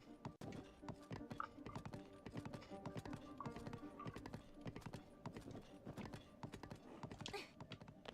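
Steady clip-clop of horse hooves at a gallop in a video game, loud and continuous, with an occasional whinny in the mix.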